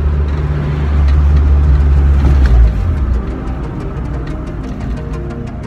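Honda Accord CB7 rolling along a road, a loud close engine and tyre rumble that swells slightly midway and then settles into a steady, even drone with no talking.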